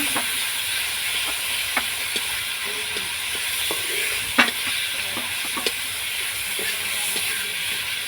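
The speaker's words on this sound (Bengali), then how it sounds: "পাতলা ঝোল করব টমেটো পেঁয়াজ তেজপাতা ফোড়ন দিয়ে ছাঁদ লাগছি" Tomato, onion and bay leaf tempering fries in oil in a pan over a village clay wood-fired stove, a steady close sizzle and hiss with occasional stirring scrapes and small pops.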